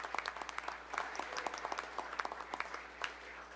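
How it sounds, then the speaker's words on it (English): A city commission meeting audience gives a round of applause for a young pageant winner, a sparse, fairly quiet crowd with distinct individual claps rattling irregularly throughout, no speech over it. "Will y'all give her a round of applause again?"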